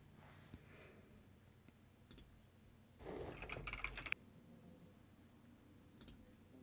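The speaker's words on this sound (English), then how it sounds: "Let's type in memoir." Light typing on a computer keyboard, a brief cluster of soft key clicks around the middle of an otherwise very quiet stretch with a few isolated taps.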